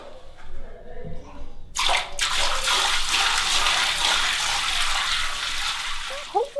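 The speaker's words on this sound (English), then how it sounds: "let's add some water, see how it goes" Water pours in a loud, steady broadband rush for a leak test, starting abruptly after a quieter moment and running continuously to the end, with a few brief splashy blips near the close.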